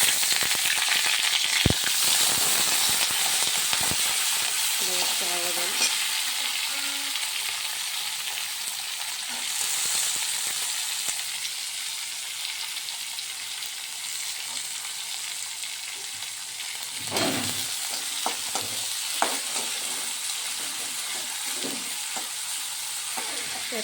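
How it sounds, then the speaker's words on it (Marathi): Green beans frying in well-heated oil make a loud, continuous close sizzle with occasional stirring scrapes and clatter, and no voices over it. "तेल चांगलं गरम झालं आहे. यात मी आता शेंगा टाकून घेते."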